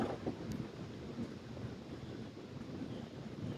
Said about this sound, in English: Just ignore the wind.